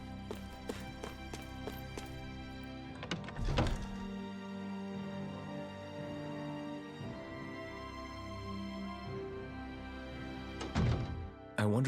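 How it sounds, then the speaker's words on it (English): Hammers bang in Tales of Arise as sharp metallic strikes, first a quick run of evenly spaced hits and then a couple of heavier clangs, ringing over a sustained tonal background at moderate volume. "I always loved the sound of hammers banging away."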